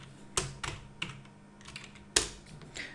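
Someone types code on a computer keyboard while building a VueJS web page: quiet, irregular key clicks with a few sharper, louder strikes, heard alone and close up.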